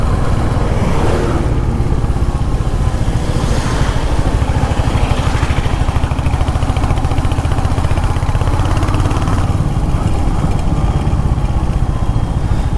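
Motorcycle on a mountain road near Sevoke in North Bengal, engine droning steadily and loudly close by as the rider opens the throttle, with continuous road and wind noise and no talking.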